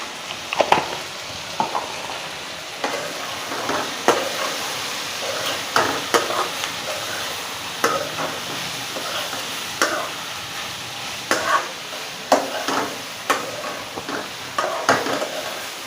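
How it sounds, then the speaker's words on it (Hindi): Bitter gourd fries in spices in a pan, a steady sizzle broken by repeated scraping and clinking stirs at an uneven rhythm, close and moderately loud with no talk. "अब थोड़ा सा मसाले के साथ भी भून के फिर इसको दम पे छोड़ दूंगी।"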